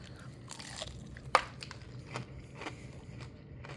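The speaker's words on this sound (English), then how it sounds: "And you can hear that crunch." A single crisp crunch as someone bites into buttermilk-breaded fried chicken from Raising Cane's, followed by quieter chewing sounds in a quiet room.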